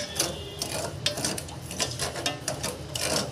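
Irregular scraping and rubbing of a spoon stirring sugar syrup in a pan over slow-to-medium heat, close and fairly quiet, repeating in uneven strokes with no talk.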